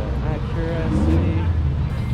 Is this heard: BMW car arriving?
yes